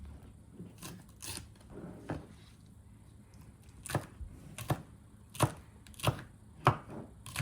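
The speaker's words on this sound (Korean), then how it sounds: "매콤한 걸 좋아하는 저는 청양고추 두 개를 썰어 넣습니다" A knife chops Cheongyang chili peppers and green onion on a cutting board for a soy dipping sauce: a series of crisp, close board knocks, sparse at first and then in a steadier rhythm toward the end, with no talk.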